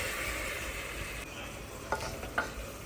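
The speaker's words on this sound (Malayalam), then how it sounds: "ഹൈ ഫ്ലെയിമിൽ വെച്ചിട്ട് എല്ലാതും നന്നായിട്ടൊന്ന് ഇളക്കി കൊടുക്കുക." Chicken curry masala with garam masala is stirred on high flame. A soft, constant sizzle runs throughout, and two sharp spoon scrapes land near the end.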